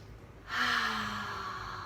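A deep breath is drawn in during a children's yoga session, heard as one long, close, airy inhale that begins abruptly and holds steady to the end.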